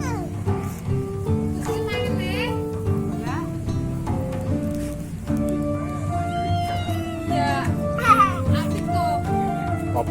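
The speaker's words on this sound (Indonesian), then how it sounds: "Kucing." Cat meowing repeatedly near the microphone in a home, with rising and falling cries over a steady bed of children's chatter and background noise.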